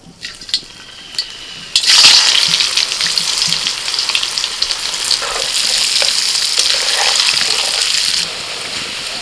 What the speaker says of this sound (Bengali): এবার ওই একই তেলের মধ্যে আলুটাও ভেজে নেব